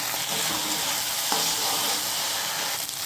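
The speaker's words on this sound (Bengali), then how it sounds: "একটু লবণ দিলাম, কয়েকটা চীনাবাদাম ছেড়ে দিলাম।" Peanuts and salt fry in hot oil in a pan while cooking pasta, giving a steady, close, loud sizzle that runs unbroken with no voices.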